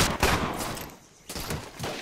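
Gunfire crackles in the Medal of Honor video game: a couple of short, fairly loud bursts of shots separated by a brief lull, with a final cluster near the end.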